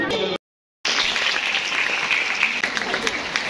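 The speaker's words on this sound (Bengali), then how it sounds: "জোরে হাততালি।" Loud applause from a school audience, dense rapid clapping that starts after a brief silence and carries on steadily and close.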